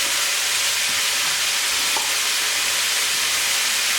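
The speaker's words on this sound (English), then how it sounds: "Give that a couple of minutes there, like that, cooking away." Root vegetable and smoked paprika stroganoff cooks in a pan with a steady, loud, hissing sizzle that barely changes, close up, with no talking.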